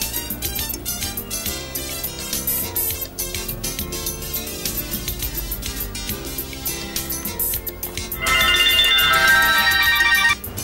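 A mobile phone ringtone plays loud and alone as a melodic tune, switching near the end to a brighter, higher repeating ring pattern before cutting off.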